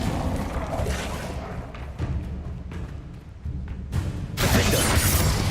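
Spell explosions and combat impacts in the Hogwarts Legacy video game, with a series of booms and thuds building to a loud, sustained blast near the end.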